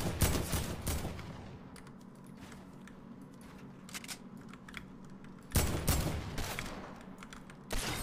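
Gunfire in the Fortnite video game, including Desert Eagle shots, comes as sharp loud cracks at the start, then a quieter stretch of small clicks and taps, then two more sudden blasts midway and at the end.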